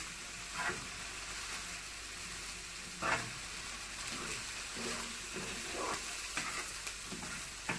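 Prawn fried rice frying in a pan gives a constant close sizzle, with a spatula scraping and tossing the rice in repeated strokes through the hiss.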